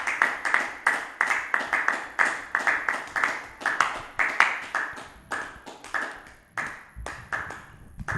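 A congregation claps together in rhythmic bursts to acclaim the Lord at the close of a Christian prayer service, steady and fairly close, with no voices over it.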